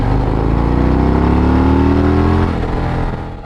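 A motorcycle engine runs steadily close by, its harmonic drone rising slightly in pitch before easing off near the end, with no talk over it.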